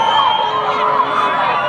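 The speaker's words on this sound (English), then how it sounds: "And the foul's going to go against Syme, much to the dismay of the crowd and the Team Ontario coaches." Crowd noise at a women's all-star soccer game as a foul goes against a player: a steady, loud wash of voices and shouts sustained throughout, with no clear pauses.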